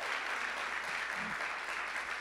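Applause from a church conference audience welcoming a pastor's wife, a steady, diffuse wash of clapping at moderate distance that holds evenly throughout.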